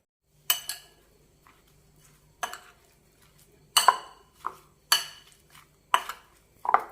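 Amla gooseberry pickle stirred with heated sesame oil: a spoon clinks and scrapes against a metal bowl in about seven sharp, evenly spaced strokes, close and otherwise quiet.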